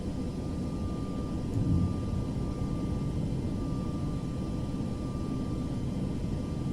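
An airliner flies in Microsoft Flight Simulator 2024, giving a continuous low, broad engine drone with a faint steady tone over it, even and unbroken.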